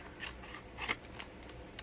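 Scissors trimming paper for a handmade garden journal: a few quiet, crisp snips spaced unevenly over a faint background, no voices.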